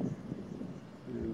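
A fixed-wing airliner on its landing approach to Burgas airport, heard as a steady low engine rumble with some wind noise, moderately distant and fairly faint.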